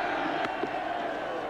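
A steady roar from a cricket crowd at Eden Park during a 1992 World Cup match between New Zealand and South Africa, a dense, continuous wash of noise with commentary over it.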